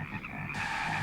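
Steady chorus of croaking frogs from the horror film Frogs, close and continuous with a slight brightening partway through.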